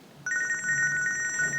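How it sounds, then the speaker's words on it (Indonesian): A telephone rings in an Indonesian TV drama scene: a steady electronic ringtone pulses in a rapid repeating pattern, loud and close, starting suddenly after a brief quiet moment. "Ada telepon dari Bu Rosa takutnya urgent"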